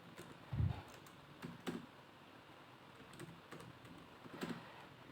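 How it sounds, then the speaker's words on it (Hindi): Keys clatter on a computer keyboard in short, sparse bursts, a few quick clicks near the start, middle and end of a quiet stretch, close and fairly soft. "यहाँ पर हम टाइप कर देते हैं"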